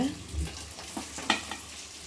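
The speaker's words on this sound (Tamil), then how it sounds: "இது அத்தனையும் நல்லா கிளறி விட்டுக்கோங்க" Fish pickle mixture being stirred in a pan, soft scraping strokes and a few brief clicks over a low continuous sizzle, close and fairly quiet.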